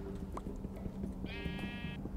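A Minecraft sheep lets out a single wavering bleat partway through, set over a busy bed of soft game clicks and low ambient hum.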